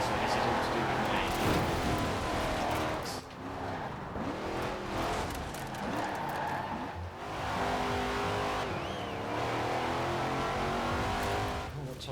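A race car's engine revs continuously in a driving video game during a B-class rival event, loud rising and falling whines with gear shifts and occasional tire squeal, someone talking over it.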